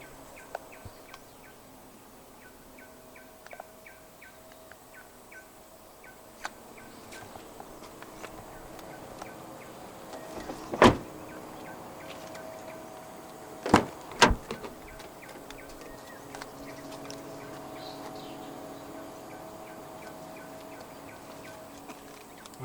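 Electric window motors in a 2022 Subaru XV 2.0i-P EyeSight AWD GT Edition cabin, faint whirring runs with a few sharp clunks as the glass stops, quiet and close inside the car.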